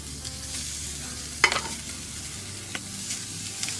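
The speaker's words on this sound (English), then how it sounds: "I love the sizzle sound." Pork chops sizzle steadily in a hot pan, with a few sharp crackles and pops over the constant frying hiss.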